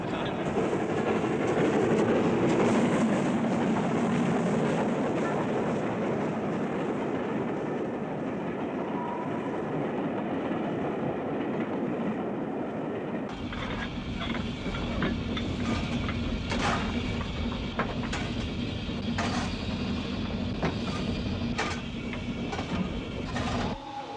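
The Flying Scotsman steam train, locomotive 4472, rumbles along steadily, loud and close, with a rhythmic clickety-clack of wheels on rails growing sharper midway through.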